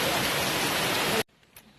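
Heavy rain pouring down on the Appalachian Trail, a loud dense hiss that cuts off abruptly after about a second, leaving near silence with a faint brief knock.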